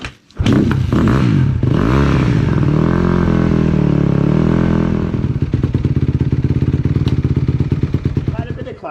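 Dirt motorcycle engines rev and rumble loudly and continuously on a trail ride at a women's moto festival, the throttle rising and falling with clattering mechanical texture as bikes set off together.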